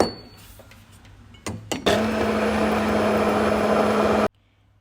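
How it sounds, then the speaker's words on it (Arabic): A blender starts after a few clicks and whirs at a steady high pitch for a couple of seconds grinding ingredients, then cuts off abruptly. "مشان يمشي الخلاط، وابلش اطحن فيهم"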